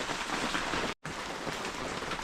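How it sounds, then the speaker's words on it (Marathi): Steady, dense monsoon rain hisses continuously in a village, with a brief drop to silence midway before the downpour resumes. "पाऊस काय कमी व्हायचं नावच घेत नाही"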